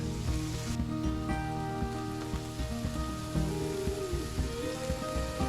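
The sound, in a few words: onion, red capsicum and garlic frying in a pan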